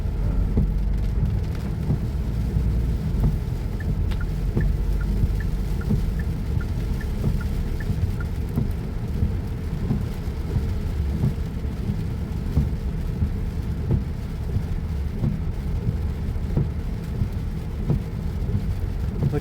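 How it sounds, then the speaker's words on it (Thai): Steady, heavy rain pours down in Vientiane, Laos, a dense unbroken hiss and patter holding at the same loudness throughout, with a low rumble underneath. "นครหลวงเวียงจันทร์ฝนตกทุกคนเลย"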